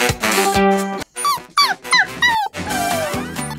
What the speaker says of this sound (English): Did you hear that? Oh no! The doggy needs our help!